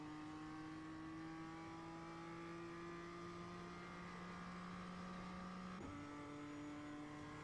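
A race car engine in a racing video game holds a steady high whine as it accelerates, then one gear shift drops the pitch before it climbs again, with no talking.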